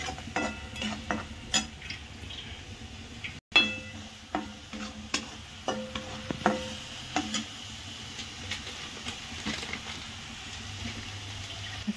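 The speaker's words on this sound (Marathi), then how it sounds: "हे आपण मस्त चांगलं तर मस्त भाजून घेणार आहे" A spoon scrapes and stirs spices with turmeric as they roast in a pan, making repeated close, irregular scraping strokes over a soft sizzle, with one brief break partway through.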